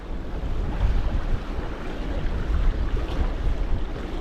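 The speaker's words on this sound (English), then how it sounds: "That wind has definitely died off a little bit." Steady wind buffets the microphone outdoors on a fishing boat while bass fishing, with broad rushing noise and water motion throughout and no talk.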